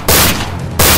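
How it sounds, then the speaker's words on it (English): Gunfire aimed at a giant boulder in a Resident Evil game scene, two loud, close bursts of blasting noise that nearly fill the second, a brief dip between them. "Chris, quick, shoot it"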